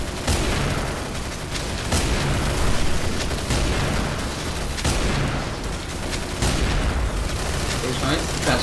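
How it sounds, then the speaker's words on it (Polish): Rapid bursts of video game gunfire and explosive booms, dense and loud throughout with repeated sharp shot transients, while a voice talks over the action. "ale to jest normalny strzał, ale proszę bardzo"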